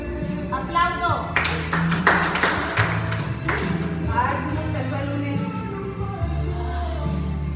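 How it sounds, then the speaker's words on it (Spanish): Sharp hand claps during an intense tabata workout, several loud separate claps in quick succession near the middle, over a steady music bed with a voice talking and counting. "Aplaudo."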